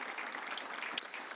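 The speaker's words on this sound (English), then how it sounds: "If you would give them a round of applause" Brief applause from an audience at a business event honoring sponsors, a short even burst of clapping with one sharp snap near the middle.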